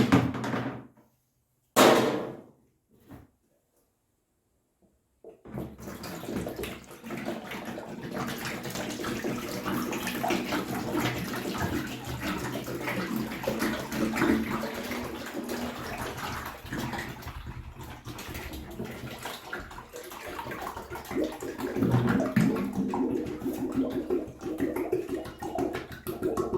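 Liquid pours and sloshes steadily out of a rusty petrol tank as three-day-old bleach is tipped out, preceded by a couple of short knocks, with a continuous splashing wash that swells near the end.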